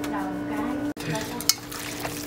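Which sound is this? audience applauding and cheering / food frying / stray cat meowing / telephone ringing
food frying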